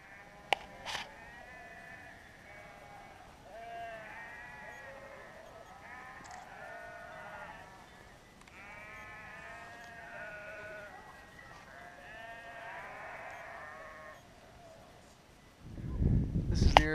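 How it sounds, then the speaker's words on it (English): A flock of sheep bleats repeatedly in overlapping calls at moderate distance on a Colorado hillside near a yurt, while a herder rings a bell; a few sharp clinks come early and a rough noise burst comes at the end. "he's ringing a bell, and the sheep are forming a circle."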